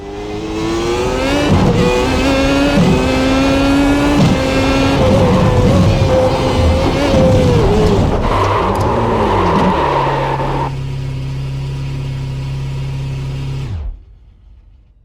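In iRacing, a Formula One race car screams at high revs, then the engine note drops sharply as the brakes are jabbed on grass, ending in a lower steady hum that cuts off. The sound is loud and close, with no talking.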